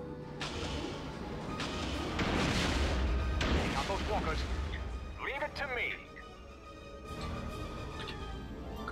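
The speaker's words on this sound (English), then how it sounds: "Dropped a shit ton of missiles on it." Missiles slam into a target in Star Wars Rogue Squadron II, a run of booming explosions and crashes under game noise and someone talking over the action.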